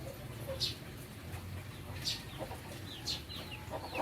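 A mother bird feeds her chicks near a house garden, giving soft, faint chirps and peeps that come in brief scattered bursts over a low background rumble.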